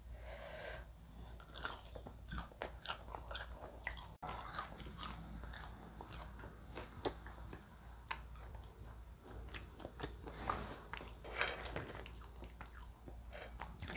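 Someone chews crispy KFC french fries close up, a quiet run of irregular crunchy bites and wet chewing with no talk.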